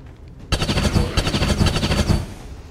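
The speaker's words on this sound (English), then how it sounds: "I'm never gonna get over how loud these guns are." Loud automatic gunfire in the XCOM 2 video game bursts in suddenly and rattles in a rapid, dense volley for about two seconds before tapering off.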